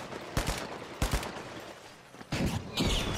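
Gunfire bursts in a video game, with a few sharp shots in quick pairs followed by a denser volley near the end, fairly faint overall.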